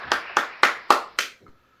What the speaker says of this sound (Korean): 한 번 더 하나님 앞에 감사와 영광의 박수 올려드리도록 하겠습니다